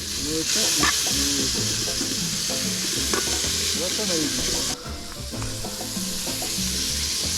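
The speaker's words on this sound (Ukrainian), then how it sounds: "Робимо з сала шкварки. От так от воно буде в нас смажитись." Cubes of pork fat (salo) render into cracklings in a pan for kulish, giving a loud, continuous sizzle and crackle with occasional stirring scrapes throughout, and no talking.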